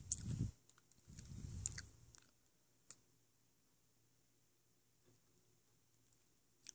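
Freshly made jelly candy being chewed close up, two soft wet bursts of munching in the first two seconds, then a few faint isolated clicks in near silence.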